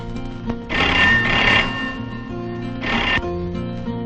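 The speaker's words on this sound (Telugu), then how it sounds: "అరుణ్కి ఫోన్ చేయాలా? కాదు, పృథ్వీరాజ్కి." An old-style telephone bell rings in a scene from a Telugu feature film: two loud, close rings with a pause between them over a faint, busy room background, with no speech.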